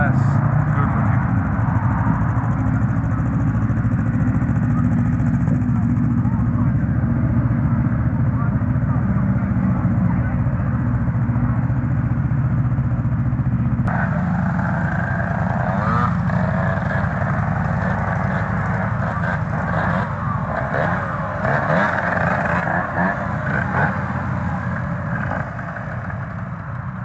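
Two-stroke motorcycles from the 1980s run steadily at a rider gathering on Box Hill, a continuous loud engine drone with a buzzing edge that holds for the whole stretch, its tone shifting midway, while people talk underneath.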